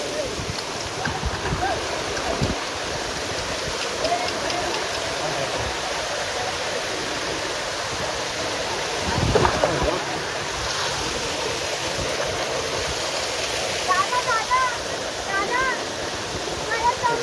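Water flows continuously over a slippery path at Amboli Ghat, a broad steady rushing wash like a waterfall or stream. A brief louder splash comes partway through.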